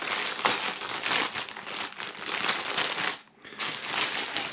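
Plastic foil crinkles and rustles as merch items from a music bundle, a shirt and a single, are unwrapped, with continuous close crackling and a brief pause near the end before it resumes.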